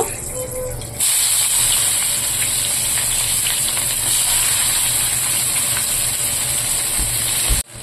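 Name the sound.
onions frying in fish oil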